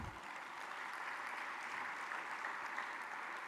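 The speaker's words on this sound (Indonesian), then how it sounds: "Bapak Presiden, kita beri tepuk tangan." Audience at a government event applauding for the President, a faint, even, continuous patter of many hands clapping at a distance, with no voices over it.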